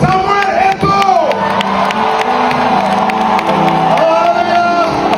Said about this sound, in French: Acclamez pour Samuel Eto'o.